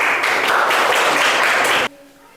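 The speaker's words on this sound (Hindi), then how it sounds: "आप लोगों को ताली बजाना है" Class of children clapping hands together in a dense, steady burst of applause lasting about two seconds, then stopping abruptly to near quiet.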